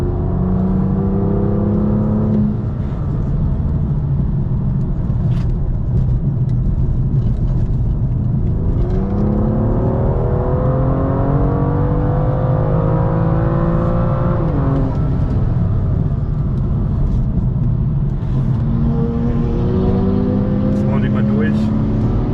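BMW M2 F87 engine heard onboard around the Nürburgring Nordschleife, a steady loud drone whose pitch sweeps up and down through gear changes, with road rumble underneath and someone talking over it.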